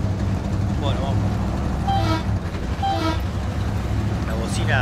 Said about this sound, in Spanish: La bocina que da lástima.